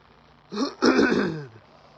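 A single throat clearing, close and fairly loud, with a short rough burst followed by a longer gravelly rasp that trails off.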